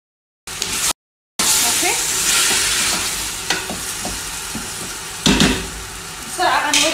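Chicken goes into a pot of frying onions and tomato, bringing a loud, close hiss and sizzle with a few clattering stirs and bursts of spitting, and a voice speaks briefly.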